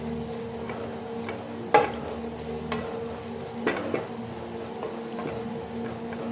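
Green chillies sauté in a pan for Kerala-style cherupayar curry, a quiet, soft sizzle with occasional sharp taps and scrapes of a spoon stirring, no voices.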